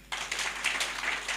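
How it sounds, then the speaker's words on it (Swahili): Worshippers in a church clap for themselves, a burst of crowd applause starting abruptly after a brief quiet moment and holding steady to the end. "Na mjipigie makofi pia."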